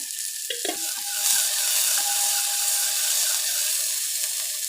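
Salted onions sizzle and fry in a bronze pot with a steady hiss, with a few scraping, clinking stirs near the start.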